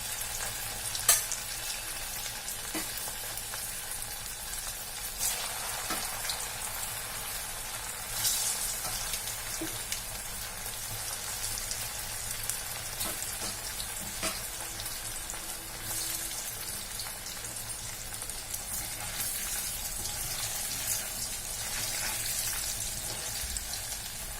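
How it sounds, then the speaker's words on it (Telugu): Taro root pieces frying in oil in a pan, a steady close crackling sizzle running throughout with occasional scrapes and stirring clinks, no talking. "ఇప్పుడు ఉన్న చామదుంపలు కూడా వేసి వేపుతున్నాను ఇది కూడా వేసి వేపుకోవాలి"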